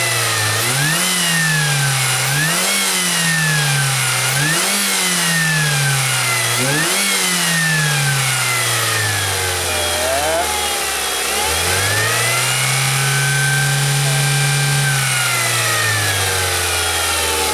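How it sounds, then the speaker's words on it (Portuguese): A Ford Focus with a Duratec 2.0 engine revs repeatedly in loud rising and falling surges, then holds a steady higher rev, with a harsh whine and rattle from a faulty timing chain running throughout. "Assustador o barulho e aparentemente vem da corrente mesmo"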